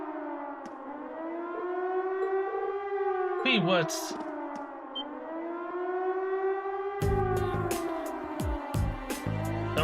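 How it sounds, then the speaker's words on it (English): Emergency alarm siren from a fort in the game Trails of Cold Steel, a wailing tone rising and falling in long slow sweeps. A voice speaks briefly over it and loud clanking hits come near the end. "An emergency sound alarm. It sounds like a siren."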